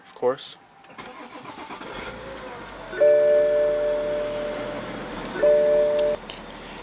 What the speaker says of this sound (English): what you were hearing was a 3-liter inline 6-cylinder turbo diesel engine.